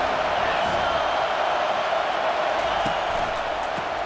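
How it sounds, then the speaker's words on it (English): A stadium crowd in the College Football 25 video game roars as one loud, unbroken wash of noise that holds steady for the whole stretch. "this crowd trying to help keep them there"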